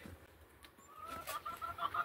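Fifteen hens and a rooster cluck softly in an outdoor poultry yard, a faint, scattered chorus of low calls with a brief higher squawk toward the end, no talking.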